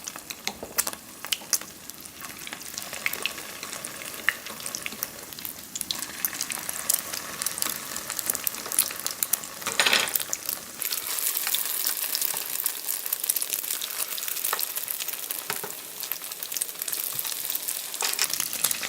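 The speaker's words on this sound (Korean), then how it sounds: "노릇노릇하게 튀기듯이 굽는 거예요." Egg-battered jeon pancakes sizzle and fry steadily in a hot oiled pan, a continuous crackling hiss with occasional brighter spits, close and fairly loud with no voices.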